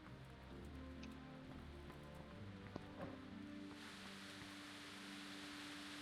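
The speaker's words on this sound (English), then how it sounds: "Oh, good. It's raining." Rain falls steadily in the medieval video game Kingdom Come: Deliverance, a soft, constant hiss of drops that sits under a low hum of game ambience and thickens toward the end.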